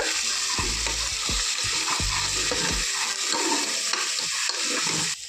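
Ginger, garlic and garam masala fry in a pan with a bright, continuous sizzle, while low thumps and occasional stirring scrapes break in, close up.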